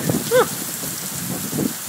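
Heavy summer storm rain in Brisbane falls steadily across a track outdoors, a continuous broadband wash with a brief louder patter, while people talk nearby.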